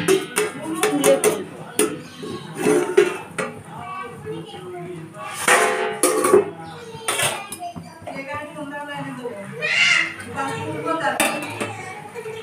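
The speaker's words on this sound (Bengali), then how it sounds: "এবার আমি ঢাকনাটা খুলে দেব" A metal pot lid is lifted while rohu fish curry with cauliflower and potato cooks in a home kitchen, giving clattering clinks and scrapes mixed with kitchen bustle as someone talks nearby.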